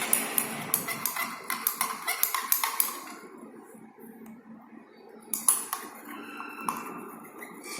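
Hot urea formaldehyde resin being stirred in a vessel during its exothermic preparation, giving a run of sharp metallic clinks and taps at first, then a quieter stretch and a few scattered clanks near the end.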